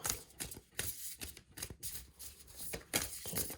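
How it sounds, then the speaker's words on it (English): Tarot cards from the Wild Unknown deck being shuffled by hand, with repeated quick riffling bursts and soft papery slaps close to the listener, and short pauses between them. "you can skip this part where I shuffle, but I'm waiting for the cards to pop out"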